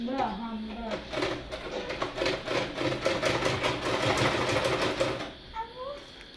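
A sewing machine stitches clothes in a steady, fast rhythmic whirr lasting about four seconds, loud and close, with voices talking just before it starts and after it stops.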